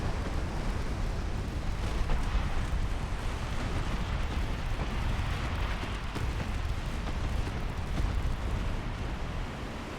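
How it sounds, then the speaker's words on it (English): Torpedo hits exploding in the naval game Ultimate Admiral Dreadnoughts: a sustained, dense, rumbling roar of blasts and churning noise, loud and steady throughout with no voices. "Torpedo hit."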